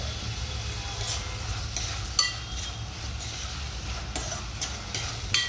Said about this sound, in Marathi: छान गुलाबी बदामी रंगावर कांदा भाजून घ्यायचा।